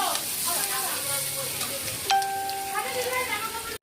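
Carrot and capsicum frying in a pan, a steady soft sizzle heard up close, with a brief tonal whistle partway through.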